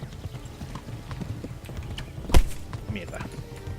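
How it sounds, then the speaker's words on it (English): Horse hooves clip-clopping steadily in the medieval video game Kingdom Come Deliverance, with a brief louder burst midway that could be a neigh, amid busy game ambience. "Está gritando el caballo"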